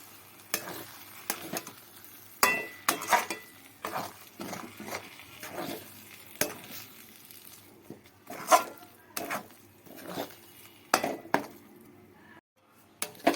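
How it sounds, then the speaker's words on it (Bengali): A spoon stirs masoor lentil paste in a pan over very low heat for Bengali dhoka, making steady scraping and soft clinking strokes against the metal with a faint sizzle underneath, close and continuous, no talking. "এবারে ডালটাকে ভালো করে খুব কম আঁচে নাড়াচাড়া করব।"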